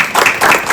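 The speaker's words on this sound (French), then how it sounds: "Est-ce qu'on peut les applaudir" An audience in a hall breaks into brief applause, a burst of close, dense clapping with a slight rise and fall.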